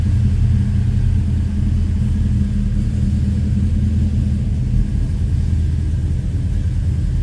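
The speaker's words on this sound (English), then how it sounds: "We're just going to turn her over now. And we're going to let it idle." Low, heavy rumble from a 1968 Dodge Charger restomod idling close by, deep and steady without any revving and with no voices over it.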